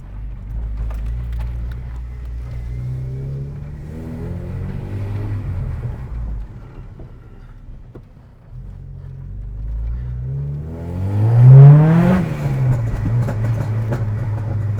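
A Honda Civic EP3 Type R with a modified exhaust and overrun mapping drones from inside the cabin with low engine rumble, swelling as it revs, then rising to a louder rasp near the end.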